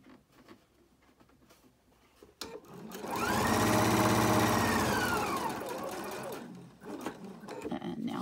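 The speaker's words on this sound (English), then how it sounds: "So I'm going to sew across, but I'm going to leave open a section to trim it." A sewing machine stitches across a fabric face mask, whirring steadily and fairly loudly for several seconds after some quiet handling noises, then slowing and stopping.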